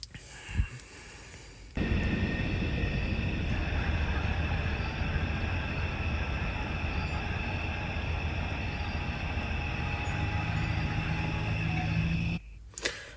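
A passenger train rumbles past close by at night, a loud continuous roar of wheels on rails that starts abruptly and cuts off about ten seconds later.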